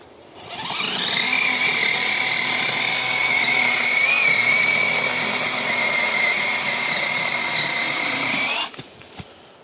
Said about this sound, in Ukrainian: А ну там ще дерево відпиляй